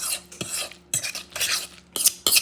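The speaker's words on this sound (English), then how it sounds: "So you mix it up." Salmon cake mixture with parsley and peppercorn being stirred in a bowl, several distinct scraping strokes of a utensil against the dish, close and fairly loud, with short pauses between strokes and no talking.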